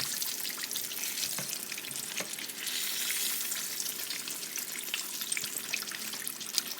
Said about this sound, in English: I'll just go ahead and fry it